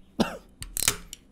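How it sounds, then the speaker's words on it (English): A man coughs and clears his throat close up, two or three rough bursts in quick succession with no talking. "Man, I got a cough."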